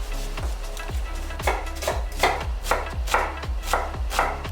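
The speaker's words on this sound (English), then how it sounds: "I'm chopping up the shallots" A kitchen knife chops shallots on a cutting board in a steady rhythm of sharp, close knocks, roughly two per second, with no talking over them.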